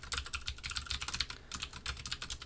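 Rapid, steady typing on a computer keyboard during a programming lecture, with dense clusters of close key clicks and a brief pause in the middle, no talking.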